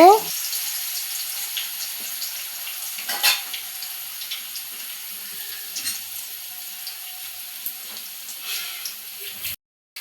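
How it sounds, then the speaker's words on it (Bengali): Black cumin, dried chillies and crushed garlic frying in oil, a constant thin hiss of sizzling with a few small pops and stirring clicks, close and fairly even throughout before cutting out briefly at the end. "একটা রসুন ছেঁচে দিয়ে দিব।"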